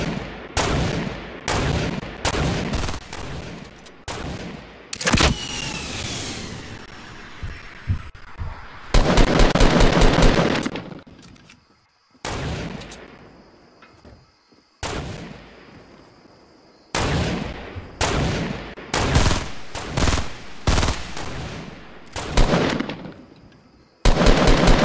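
Loud bursts of rapid gunfire in Fortnite repeat in dense volleys, then pause and return again, with automatic fire and single shots mixed throughout.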